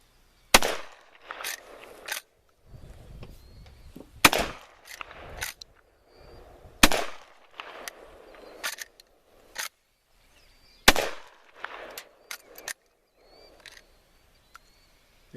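A Model 87 lever action shotgun fires several sharp, loud, widely spaced shots outdoors, with quiet pauses and faint mechanical handling sounds between them.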